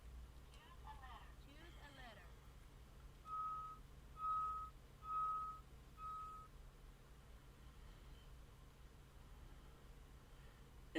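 Prize wheel spinning in the Wheel of Fortune game for the SNES, heard as four evenly spaced electronic tones over a steady low hum, fairly quiet with no voices.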